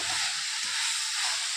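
Onions sizzle steadily in a hot pan for Mangalore-style pork chilli, a continuous close hiss with faint soft scrapes underneath and no voices.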